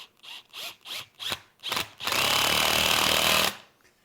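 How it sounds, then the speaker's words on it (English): A power drill with a nut driver tightens a hose clamp around a wooden stave glue-up, first in several short bursts, then in one sustained whirring run, loud and close with no talking. "I can actually use a drill to draw this closed with a nut driver"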